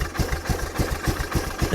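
A 1998 Kawasaki KLF300B ATV engine idles with an even, throbbing low pulse, steady and fairly close, with no voices.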